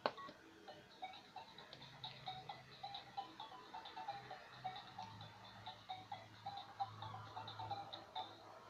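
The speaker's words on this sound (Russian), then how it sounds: "Давайте нажмем на колокольчик и узнаем, какие еще есть мелодии у телефончика для нас." A Fisher-Price toy smart phone plays a cheerful electronic melody after its bell button is pressed, a steady string of quiet beeping notes over faint background noise.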